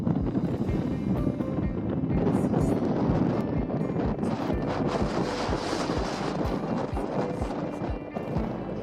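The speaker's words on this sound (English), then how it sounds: "It's very windy." Strong wind gusting across an open site in Egypt, a steady loud rumble and buffeting against the microphone, with faint clopping in the background throughout.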